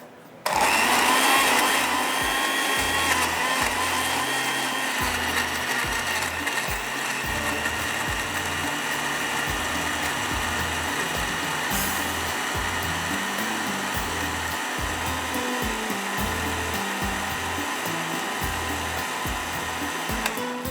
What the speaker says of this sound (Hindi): अब इसको चलाते हैं ब्लेंडर को और चटनी हमारी रेडी हो जाएगी।